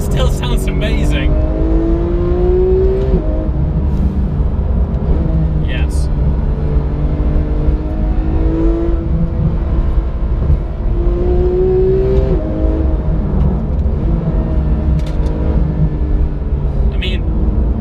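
A Porsche 991 GT3 engine with stock exhaust revs and drops through several downshifts, rising and falling tones over a deep rumble, while a person talks over it.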